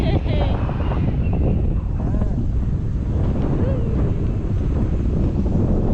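Loud, continuous wind roars and buffets the microphone throughout during paragliding, with faint voices barely audible beneath the rumble.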